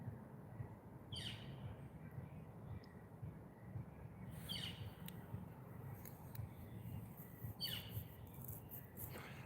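A northern flicker calls in three brief, evenly spaced bursts, faint and distant above a low rumbling background, in smoky countryside.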